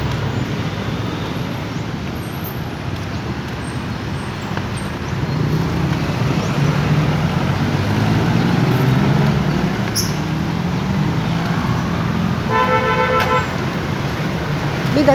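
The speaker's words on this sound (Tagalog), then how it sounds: "Pag umaga, marami talaga mga sasakyan." Busy morning street traffic rumbles past steadily, engines swelling and fading, with a brief car horn toot near the end and a voice speaking faintly underneath.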